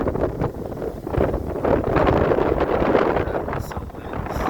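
Hurricane Ian winds gusting outdoors past a backyard with trees and fences, a steady roaring rush of air buffeting the microphone that swells and eases in uneven gusts, loud and close throughout with no voices.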